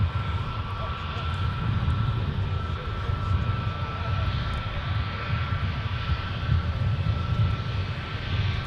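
An Airbus A321neo jet at Minneapolis–Saint Paul airport produces a steady engine drone with a sustained low rumble and faint high whine, moderately distant and continuous throughout.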